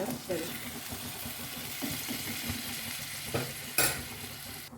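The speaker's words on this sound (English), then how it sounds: "Transfer all the cauliflower florets to this kadai and mix well." Cauliflower florets stirred with spices in a kadai, a sizzling frying hiss broken by several scraping clacks of a spoon against the pan, with a voice talking over it.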